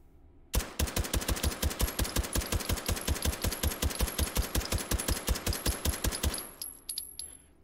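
A suppressed Luger 1902 carbine in the H3VR video game fires a long, rapid, evenly spaced string of loud, sharp shots, about forty in six seconds, ending abruptly with a faint mechanical rattle after.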